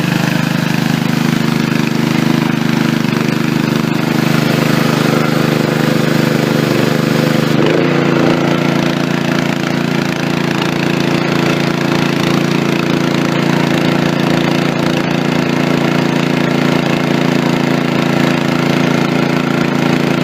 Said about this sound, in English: I've got my air compressor fired up, and it's acting funny